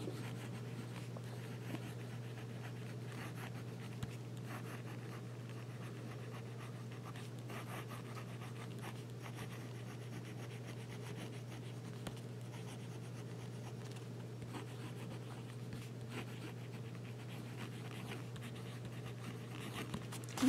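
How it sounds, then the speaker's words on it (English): A Jinhao 990 fountain pen nib scratches and glides across paper in a steady run of strokes, faint and close, over a constant low hum with no talking. "And we'll do some writing."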